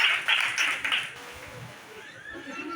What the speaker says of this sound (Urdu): تو آپ اپنے لیے تالیاں بجائیے